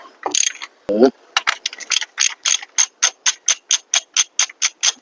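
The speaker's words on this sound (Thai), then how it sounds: "ถ้ายันแล้วก็ขันต่อครับ จนกว่าสายพานเราจะหลุดได้นะ" A ratchet wrench clicks in a steady run of quick, close strokes while loosening the AC belt tensioner on an all-new Isuzu D-Max, after a few irregular mechanical clicks and a brief voice near the start.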